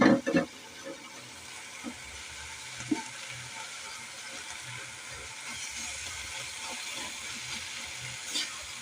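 Fried shrimp go into a pan of cooking jute leaves. A few clattering knocks open the sound, then a steady close sizzle continues with occasional stirring scrapes.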